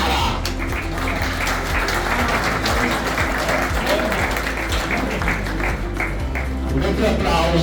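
Steady applause from the audience at a regional amateur football awards ceremony in a hotel hall, honouring the Sporting 88 club president, continuous and fairly loud throughout over low musical hum.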